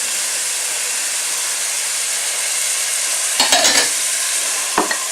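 Vegetables and chilli sizzle with a strong, continuous hiss in a hot pan for a spicy dhal soup, with a few close scraping stirs of a utensil near the end.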